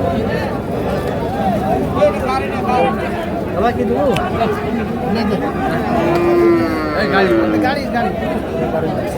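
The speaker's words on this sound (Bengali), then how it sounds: "এপাশে একটা গরু দেখছি" Cattle at a village cattle market in Kaharol where medium-sized bulls are sold give a single drawn-out moo, half buried in steady crowd chatter and bargaining voices.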